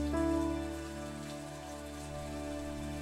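Steady rain falls in a Spanish-language audio drama scene, a soft continuous patter over a low background hum, with no voices.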